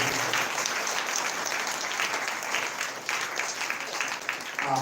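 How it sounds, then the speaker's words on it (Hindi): An audience at a Sunday church meeting claps steadily and loudly for nearly five seconds, a dense, even wash of many hands with no voices standing out. "जोरदार ताली बजाकर"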